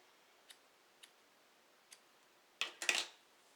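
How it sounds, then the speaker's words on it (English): A few soft, sparse snips of scissors trimming a wig, quiet isolated clicks, then a quick louder cluster of cuts at the end, close and alone in a hushed room. "I see where I need to trim just a little bit more."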